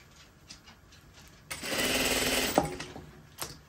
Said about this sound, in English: we're going to sew the right and